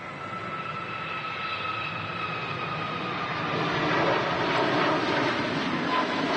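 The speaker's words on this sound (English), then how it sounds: "And off goes the flight to JFK, the A321neo from Aer Lingus." An Aer Lingus Airbus A321neo takes off from Manchester bound for JFK, its engine roar steady at first with tonal whines, then growing louder and fuller toward the end.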